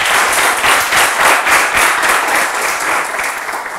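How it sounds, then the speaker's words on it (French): A studio audience at a televised quiz show claps together in lively, pulsing applause, loud and close, with waves of rhythmic clapping and no speech. "Merci d'applaudir pour votre pays."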